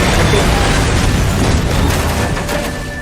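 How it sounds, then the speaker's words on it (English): An explosion blows open a door in a TV drama, giving a loud, sustained rumbling blast that fills the clip and fades slightly toward the end. "Oh, we exploding the shit out of that door."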